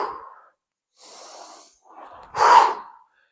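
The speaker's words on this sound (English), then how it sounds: "So I'll breathe in." A rower breathes in time with the strokes: a few close, airy breaths, soft at first, then one sharper, louder intake near the end, with no talk.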